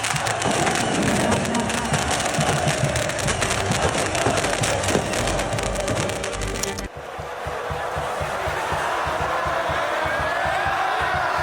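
Fireworks set off by the crowd at a Persib Bandung football match in a stadium, a dense, continuous crackle and bang of pyrotechnics under a roaring crowd, then fading to a broad crowd wash.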